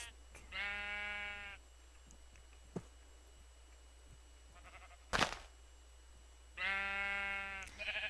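Sheep in the video game Minecraft bleat twice, each a loud, wavering cry about a second long, separated by quiet stretches with a few sharp clicks in between.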